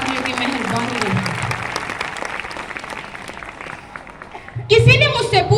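An audience at a school speech event at Vedic Inter College in Kurmali, Shamli, breaks into clapping. The applause starts under a voice, dips, then swells into a louder burst near the end.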